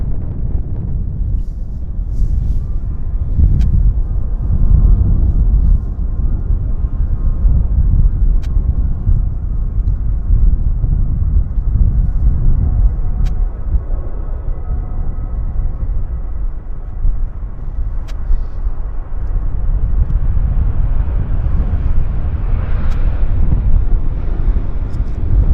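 Airliner arriving from Mexico and making a long landing at Vancouver Airport, a sustained loud low roar and rumble mixed with heavy wind buffeting, swelling again toward the end.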